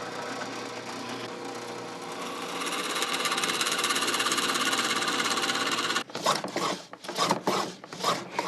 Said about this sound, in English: he turns on the drill